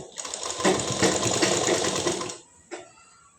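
A close sewing machine hums through a quick continuous run while stitching a half collar onto a garment neckline, then stops and gives one short final burst.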